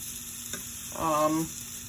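Apples soften in a pan, giving off a quiet, steady sizzle up close with a brief louder bubbling burst midway.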